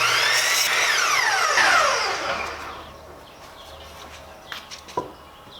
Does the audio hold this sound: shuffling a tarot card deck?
no